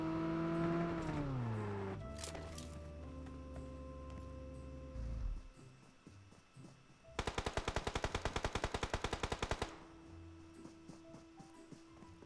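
A rapid burst of automatic gunfire in the video game PUBG rattles for a few seconds after engine and mechanical sounds, with scattered single shots following.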